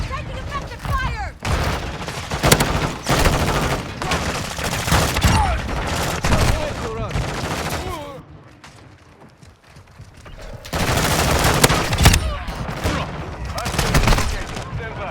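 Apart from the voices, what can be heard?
gunfire in video game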